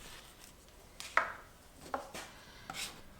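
Two-part P-Tec 8400 compound being mixed with a flexible metal putty knife on a palette, a few quiet scraping strokes with soft taps, close and faint, with no talk.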